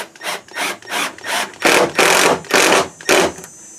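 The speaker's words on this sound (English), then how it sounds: "And then we just tighten the 2 screws down." Screws, 2.5 inches long, being driven into wood during a furniture build, heard as about eight loud, rhythmic grinding bursts in quick succession, close up with no talking.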